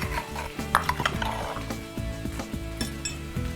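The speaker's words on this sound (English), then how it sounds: "the reason this is called pat cha is because of the sound it makes when it hits the wok" Prawns hitting a hot, smoking wok for a Thai stir-fry with krachai, with sharp metallic clanks and scrapes of a utensil against the pan over a low sizzle, fairly quiet and without talk.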